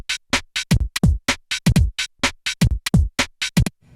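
Sliced drum loop played on a Novation Circuit Rhythm sampler, with short chopped hits firing in a quick, uneven pattern of about twenty crisp bursts over a few seconds, upfront and with no voice over it.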